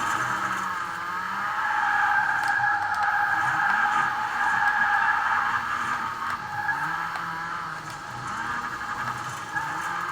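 A powerful Ford Focus with broken wheels and suspension slides around in Forza Horizon 4, giving a steady, loud engine drone with faint scraping and skidding underneath.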